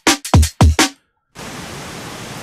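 Steady hiss of tape-style noise from a Freakshow Industries audio plugin fills the second half, following a few brief, sharp percussive hits and a short silence.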